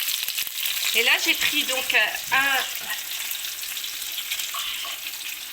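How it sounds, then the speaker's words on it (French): Olive oil sizzles steadily in a pan while a lemon tajine is cooked, with a constant bright hiss running under someone speaking French for most of the stretch. "je vais rajouter un filet d'huile d'olive"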